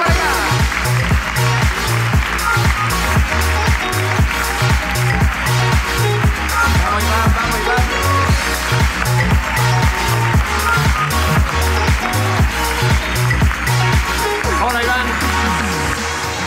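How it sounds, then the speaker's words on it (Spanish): Audience at a live comedy podcast recording claps steadily and loudly throughout, a dense continuous wash of applause with a thumping rhythmic beat underneath. "aplauso para acá"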